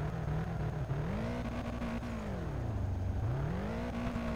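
A car engine in the Drift Streets Japan video game drones steadily and loudly throughout, its pitch falling and rising again as revs change through a drift, with no talk over it.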